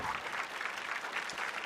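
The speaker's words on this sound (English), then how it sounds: "And his wife Nancy cheering him on in our audience." Audience at a televised poker game applauding and cheering steadily after a won hand, a dense continuous clatter of clapping with a few voices rising in the mix.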